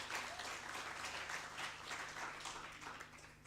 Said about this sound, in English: Can we give them a round of applause once more?